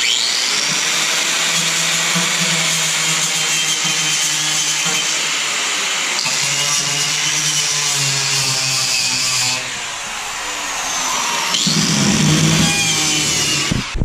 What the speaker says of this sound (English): I'm just using a grinder with a wire wheel